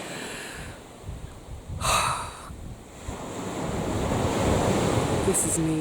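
Small sea waves at a Dorset beach, washing in with a soft rushing swell that builds toward the end, mixed with gusts of wind noise and a close breathy sound.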